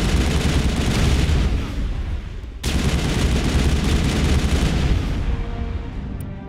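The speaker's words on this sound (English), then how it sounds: "Might as well just use the assault rifle." Sustained assault rifle fire in Mass Effect, a dense, loud continuous rattle of rapid shots that breaks off briefly near the middle, then resumes and fades slightly toward the end.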